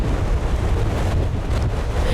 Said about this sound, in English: it's just the whole thing is shaking in the wind